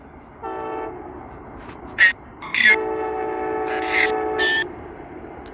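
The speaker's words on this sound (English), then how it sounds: "Here comes the train." A passing train sounds its horn in several loud, sustained blasts with short gaps between them, over a steady rolling rumble.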